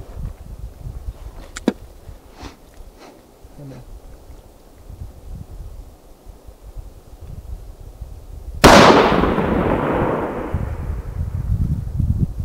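A single sharp report from a 115 DTAC long-range rifle fired outdoors, loud and close, its boom rolling into a long decaying echo across open terrain after a quiet stretch with faint background sounds.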